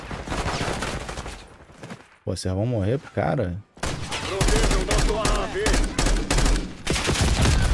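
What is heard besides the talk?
gunfire in video game Call of Duty: Black Ops 6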